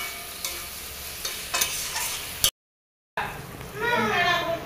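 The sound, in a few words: poppy-mustard paste stirred and fried with potatoes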